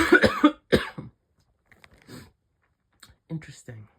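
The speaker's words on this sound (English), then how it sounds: "I coughed right there as this information comes out" A single person gives a sharp cough, then a second brief cough, close and fairly loud, followed by quiet pauses and soft vocal sounds.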